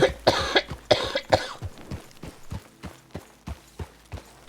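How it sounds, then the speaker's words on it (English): A series of coughs hit the microphone at close range. Several loud harsh bursts come first, then a regular run of softer thumping hacks, with no speech. "I just coughed at the mic for you."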